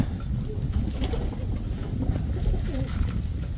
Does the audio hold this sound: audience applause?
no